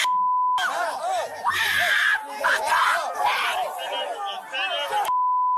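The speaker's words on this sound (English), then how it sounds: "Now you're on the ground screaming like a victim." A woman lies on the ground screaming during an arrest at an ICE protest, with loud, wavering cries filling most of the clip between electronic beeps at the start and end.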